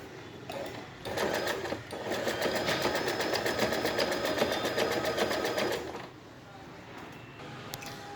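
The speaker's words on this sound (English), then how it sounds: "then once again you have to start stitching" A sewing machine runs close up while stitching reverse applique, giving a rapid, even mechanical hum with quick needle clatter for about five seconds, preceded and followed by brief quiet handling noises.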